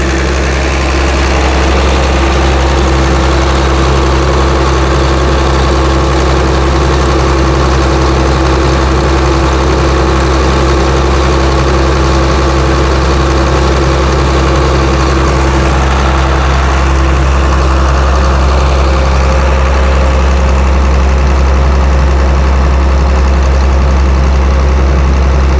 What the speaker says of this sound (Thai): เดี๋ยวเรามาดูรอบการทำงานของเครื่องยนต์นะครับ